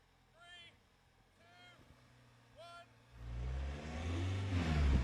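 A car in sports mode accelerates up a hill on a field, engine revving loudly and building to a strong sustained roar after three honk-like calls from geese beforehand.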